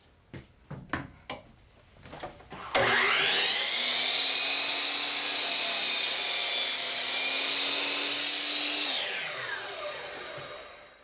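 A power saw cuts through four stacked wood pieces at once for a fireplace mantel build: a loud, steady high whine starting after a few short knocks, holding for about six seconds, then winding down.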